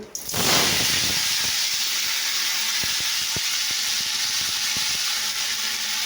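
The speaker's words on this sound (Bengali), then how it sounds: "পাঁচফোড়ন দিয়ে দিয়েছি, দেখতেই পাচ্ছ।" Panch phoron spices hitting hot oil give a sudden loud hiss that settles into a steady, dense sizzle, with a few faint clicks of a utensil underneath and no talk.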